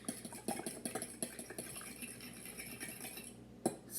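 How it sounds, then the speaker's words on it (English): A metal fork mixes coconut oil and eggs in a bowl, making a quiet run of rhythmic clinks and scrapes followed by a softer stirring stretch and one sharper clink near the end. "And mix the coconut oil and the eggs together with the fork."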